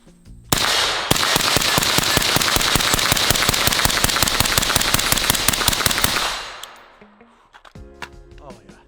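A rifle build fires a long rapid burst of gunshots, dozens of sharp evenly spaced cracks for several seconds before it stops, followed by faint mechanical clicks.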